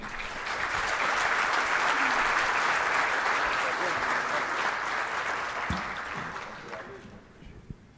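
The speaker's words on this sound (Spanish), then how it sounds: "Un fuerte aplauso para ellos." An audience at an international security and defence symposium applauds, a dense, sustained burst of clapping from a roomful of people that holds steady, then fades out near the end.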